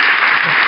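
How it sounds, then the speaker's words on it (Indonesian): A short burst of loud, dense clapping from a crowd at a business talk, steady throughout. "Oke, tepuk tangan semuanya."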